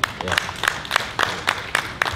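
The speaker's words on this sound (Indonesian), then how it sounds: "Tepuk tangan untuk Kiai." An audience at the 19th anniversary celebration of Ma'had Sunan Ampel Al-Aly, UIN Maliki, claps for a Kiai, with sharp hand claps landing in a steady, evenly spaced rhythm and moderately close.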